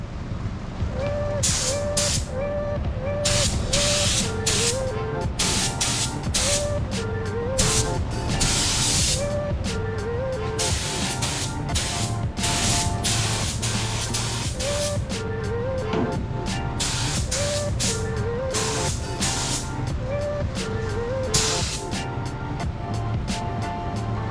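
Spray gun applying sealer to a 1969 Dodge Charger, a steady loud hiss of air and spray running throughout with short bursts, plus a repeating metallic ringing whine from the gun each time the trigger is released.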